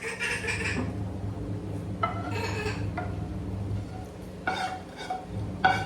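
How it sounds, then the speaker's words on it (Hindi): Large cooking utensils being washed at a home kitchen sink, with bursts of clattering metal and clinking scattered through the clip over a steady low hum of running water. "ये ना बड़े बड़े बर्तन जो है ना वो धुल जाएंगे एटलीस्ट।"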